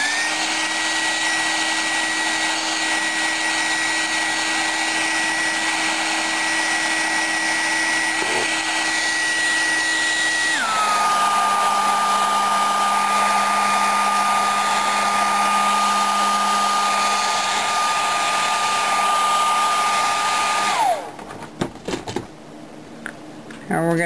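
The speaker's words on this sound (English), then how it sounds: "So we're going to take the hairdryer again." A steady, close hairdryer blows with a constant whine while drying a coat of product, shifting to a lower speed midway, then cuts off near the end.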